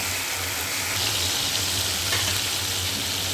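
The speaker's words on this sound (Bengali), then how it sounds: "মাছগুলোকে খুব হালকা করে ভেজে নেব," Fish frying lightly in hot oil gives a close, steady, crackling sizzle that stays even throughout, with no voices.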